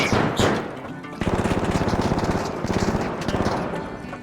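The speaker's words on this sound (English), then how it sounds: "Someone is shooting." Rapid bursts of video game gunfire, a dense run of fast repeated shots after a brief pause, loud and close within a busy mix, with people chatting in the background.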